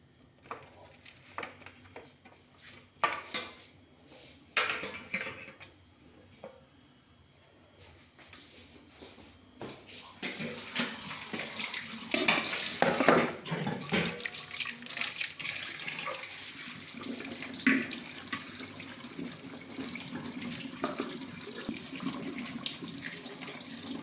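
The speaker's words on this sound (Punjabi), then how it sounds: "ਆਪਾਂ ਇਹਨਾਂ ਨੂੰ ਹੁਣ ਧੋਣ ਲੱਗੇ ਆਪਾਂ ਇੱਕ ਜਾਲੀ ਲੈ ਲਈ ਆਹ ਜਾਲੀ ਵਿੱਚ ਆਪਾਂ ਨੂੰ ਧੋਵਾਂਗੇ" Cut potato finger fries are rinsed in a mesh strainer under a running kitchen tap. Water splashes and patters steadily, starting lighter with intermittent gushes and then flowing fuller and continuously.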